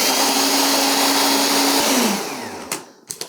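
A blender grinds almonds for Stollen with a loud, steady whirring roar that winds down and stops, followed by a few clunks as the jar is handled.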